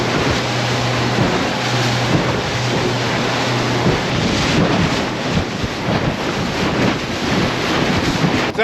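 A small boat motors across a choppy gulf in strong wind, with heavy wind buffeting on the microphone and waves slapping steadily throughout, a low engine hum under it early on.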